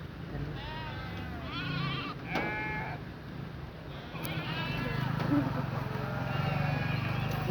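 Several sheep bleat repeatedly at middle distance over a low, steady background hum, with people talking in between.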